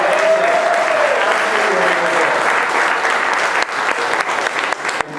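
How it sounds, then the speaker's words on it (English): A conference audience applauds steadily for a group called Voices of the Heart, a dense, loud wash of clapping that holds for about five seconds and thins slightly near the end. "Can I have some applause for Voices of the Heart?"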